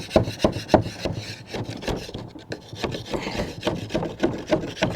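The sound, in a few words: scraper scraping old adhesive off a surface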